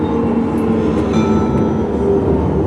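A tram rolls steadily along its rails, a continuous loud low rumble with faint higher squeals and clatter throughout, heard from inside a nearly empty car.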